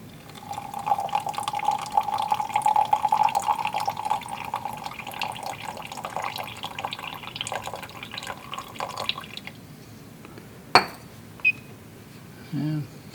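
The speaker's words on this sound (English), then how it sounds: "And now we'll add enough water to get up to 100." Water from a squeeze bottle trickles and drips into a lab solution being mixed, a steady fine pouring for several seconds, then a few sharp taps of glassware near the end.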